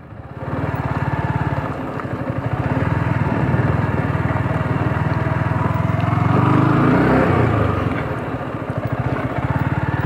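Yamaha R15 V3 motorcycle cruising in sixth gear, a steady low engine drone with rapid firing pulses that swells slightly mid-ride and holds close and loud throughout, no talking.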